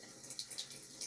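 Tap water runs quietly into a sink during a morning skincare routine, a faint, steady trickle with small splashy bursts, close by and with no talking.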